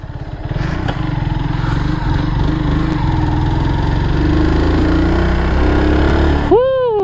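A Kawasaki W175 motorcycle pulling in second gear, its single-cylinder engine thrumming loud and steady with a rising pitch as it accelerates, with a rider's voice partly audible over it.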